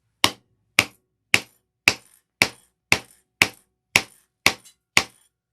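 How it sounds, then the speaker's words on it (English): Ten evenly spaced hammer strikes on a 1/2 inch circle hole punch against a hard surface, each a sharp, loud, close metallic crack with a quick decay, about half a second apart with no talking. "I'm going to take a 1/2 inch circle to punch out. And then we're going to do a couple strikes."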